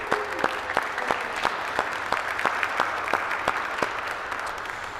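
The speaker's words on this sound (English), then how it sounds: "let's give all of them a round of applause" Conference audience applause for school staff and volunteers, a moderate wash of clapping with distinct loud individual claps punctuating it at a fairly regular rhythm throughout.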